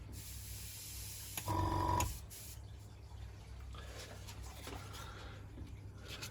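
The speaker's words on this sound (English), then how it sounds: "utilising an airbrush with the original paint colouring" An airbrush sprays paint onto a metal jerry can during restoration, a short close hissing burst followed by quieter shop ambience.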